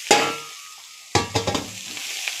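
Leftover rice with egg sizzles in a hot pan as a spatula stirs it, giving a sharp clank followed by a bright frying hiss, then a few quick scraping strokes over continued sizzling.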